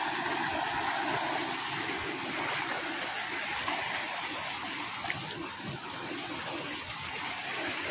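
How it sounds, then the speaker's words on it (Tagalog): A stream swollen after flooding among farm crops gives a steady, broad rushing wash of flowing water, even and unbroken throughout with no voices. "So ito na yung sapa, oh."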